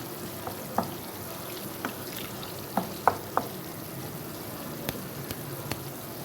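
Flour cooking in a pan as ghee separates out, a soft, steady low sizzle scattered with small, faint pops and ticks at irregular intervals, with no talking.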